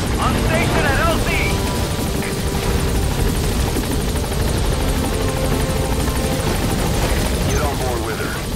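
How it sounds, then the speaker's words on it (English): Extraction helicopter from the video game Metal Gear Solid V, its loud continuous rotor thrum and engine roar filling the whole stretch at steady volume, with game voices and chatter heard over it. "I'll send the extraction chopper."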